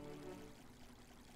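Watering crops in Starbound brings a brief, quiet pouring splash that runs steadily for a moment and then fades out.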